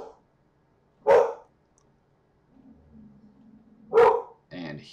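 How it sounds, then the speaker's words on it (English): A pet dog barks twice, each bark a sharp, loud burst a few seconds apart, with a softer whine and a low grumble between and after them. "And my dog's probably in the video now."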